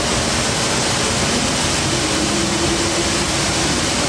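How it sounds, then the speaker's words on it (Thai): A waterfall at Bueng Kan gives a loud, steady broadband roar of rushing water that fills the whole stretch, with no voices over it. "ฝนไม่ได้ตกค่ะทุกคนอันนี้เสียงน้ำตก"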